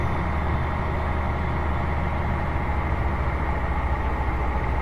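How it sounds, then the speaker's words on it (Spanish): Freightliner Classic XL truck hauling a double trailer on a Colombian highway, its diesel engine giving a steady, loud low drone with continuous road and wind noise and no speech. "Eso sí es lo que no me gusta casi de estos camiones, que el motor pues no les suena como yo quisiera"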